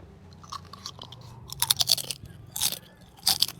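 Crisp crunching of thin fried cassava chips being chewed, several loud bursts in quick succession close to the mic, with quieter chewing between them.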